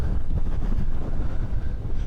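Wind buffets the microphone in a steady, rumbling roar with no other sounds, outdoors in cold wind in Ecuador.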